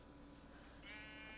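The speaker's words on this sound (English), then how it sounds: "Okay, well, sheep are walking on it." A sheep in the Minecraft video game gives a single short, wavering bleat, fairly faint and alone against a quiet background.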